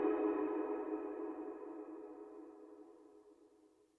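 A sustained note gradually fading away into a long reverberant tail, smooth and decaying to near silence over several seconds.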